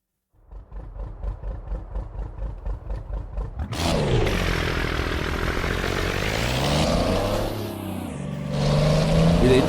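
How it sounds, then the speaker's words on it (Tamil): Engine audio in the Euro Truck Simulator 2 driving game: a rhythmic chugging idle, then a loud, sustained droning roar that shifts in pitch as the truck pulls away. "ட்ரக் இன்ஜின் தானே இது, இன்ஜின் சவுண்டு தான் அது."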